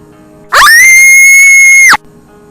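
A little sister's desperate, agonized scream: one loud, high-pitched, sustained cry of about a second and a half that breaks out of near silence and cuts off sharply.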